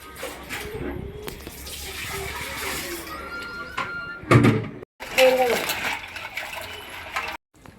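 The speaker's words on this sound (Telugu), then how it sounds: "మా అమ్మగారు అయితే పీతలు అయితే కడుగుతున్నారు శుభ్రంగా" Crabs being washed clean under running tap water, a steady splashing flow with brief clatters and a short gap, while people talk nearby.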